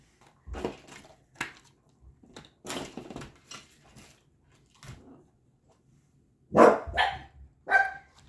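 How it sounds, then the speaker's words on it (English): Pet dogs barking indoors: several sharp barks and yips come in scattered bursts, a few louder ones close by near the end, between quieter stretches. "sorry, my doggies."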